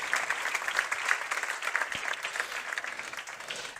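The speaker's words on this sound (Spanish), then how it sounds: "Yo creo que les van a dar un aplauso a esta gente de Castilla y León." A press club audience applauds steadily throughout, a dense, moderately distant wash of many hands clapping with no voices standing out.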